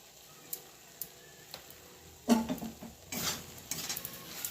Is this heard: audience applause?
no